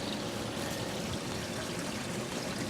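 RV gray water tank emptying through a drain hose: a continuous, faint rushing flow of water, even and unbroken, heard from a short distance.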